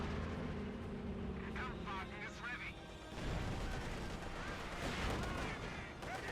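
A Brummbär assault gun fires in Company of Heroes 2, one heavy booming shot landing midway amid ongoing battle rumble and scattered gunfire, with an excited commentator talking over it.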